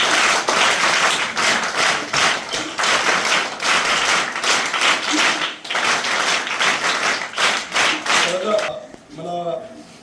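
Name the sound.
applause for the lawyer who donated benches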